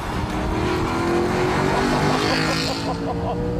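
Aston Martin V8 Vantage accelerating hard along a cordoned-off track, its V8 roaring loud and close, pitch climbing through the revs.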